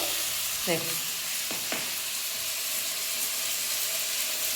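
Curry leaves and salt sautéing in a hot pan give a steady, close sizzle and hiss, with a couple of brief voice sounds early on.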